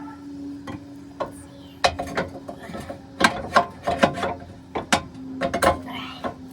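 A hand ratchet clicks rapidly in bursts while the 15mm nuts are fastened on a new front strut assembly of a 2003 Ford Expedition, close and crisp over a steady low hum.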